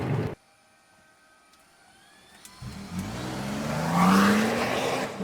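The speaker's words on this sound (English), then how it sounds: "you can hear that turbo and you can hear that engine just come to life" After a brief sound and a quiet pause, a Toyota Tundra TRD Pro pickup's turbo engine revs up and accelerates with a rising whine, growing louder and swelling toward the end.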